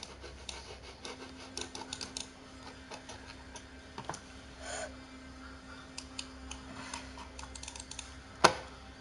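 Keys clatter in a quick, uneven stream of light clicks on a computer keyboard during a gaming setup, with one sharper, louder click near the end and no voices.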